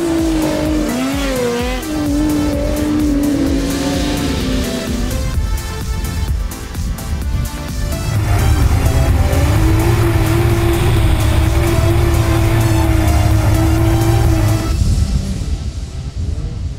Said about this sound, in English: the car has made it up the treacherously slippy slope